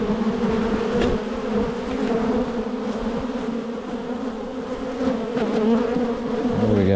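Honeybees swarm around an open hive during a summer farm inspection, their dense, steady buzzing close and loud for the whole stretch, with no voices over it.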